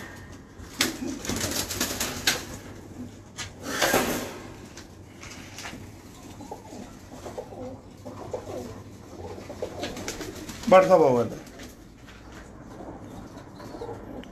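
Kasuri pigeons coo in a loft, with soft repeated throaty calls and one louder coo near the end, amid rustling, flapping and a sliding door; someone speaks briefly.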